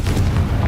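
A deep, rumbling fire-blast explosion from the Confringo spell in the video game Hogwarts Legacy, one heavy booming burst with a roaring low-end tail, loud and close.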